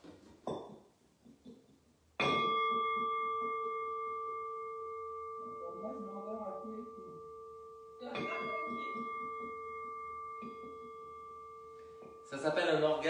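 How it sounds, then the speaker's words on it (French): A gong is struck during a Pilates class, with a bright clear tone that rings on and slowly decays, then is struck again and later once more, while an instructor talks between strikes. "Ça s'appelle un orgasme de gong."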